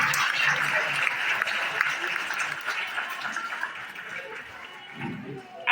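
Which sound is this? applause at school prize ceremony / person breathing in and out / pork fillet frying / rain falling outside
applause at school prize ceremony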